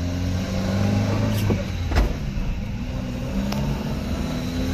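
A supercharged Subaru Sambar drives along a bike trail, its small engine droning steadily with a low whine, plus a few sharp rattles and knocks from the cabin.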